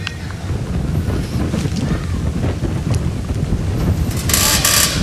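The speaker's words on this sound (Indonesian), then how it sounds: "Badai angin kencang disertai hujan deras menerjang wilayah pesisir pantai di Polewali Mandar" A strong coastal wind storm with heavy rain hits the beach at Polewali Mandar, West Sulawesi, heard as loud, roaring wind buffeting the microphone over rumbling surf, with a brief burst of noise near the end.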